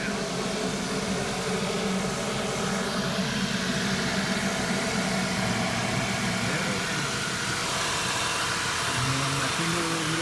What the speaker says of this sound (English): Got the engine running, and I'm going to make sure there are no leaks before I shut it down.